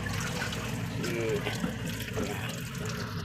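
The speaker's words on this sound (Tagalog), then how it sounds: "So linisan muna natin. Yan, hugasan natin." Broccoli is rinsed under a running kitchen tap, a steady close splash and trickle of water over the florets throughout.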